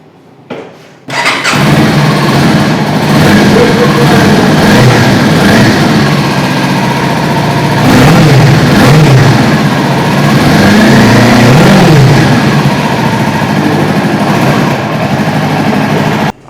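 A Kawasaki Ninja 400 parallel-twin with a six-speed gearbox fires up after a brief silence, then idles loudly and close by, with a few throttle blips that rise and fall in the middle before it settles back to a steady idle.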